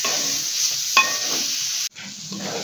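Mango khoya sandesh mixture stirred in a pan, giving a close, steady scraping sizzle with one brief clack before the sound cuts out abruptly near the end.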